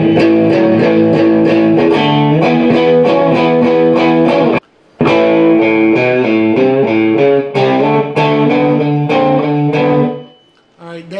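Distorted electric guitar plays a walk-up riff leading into the chorus of a song, loud and alone in steady chord strikes, with a brief gap midway and a ringing chord fading at the end.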